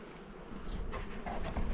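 Honey bees hum softly inside a closed hive under a plexiglass cover, a steady low buzz, faint and close, with no voices.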